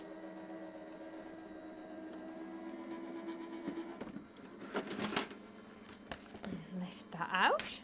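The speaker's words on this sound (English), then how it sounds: "Send that through our machine." A manual die-cutting machine grinds steadily as a Christmas tree 3D embossing folder is cranked through for card making, then gives way to crinkly paper and plastic handling noises and brief rustles, close and moderately loud.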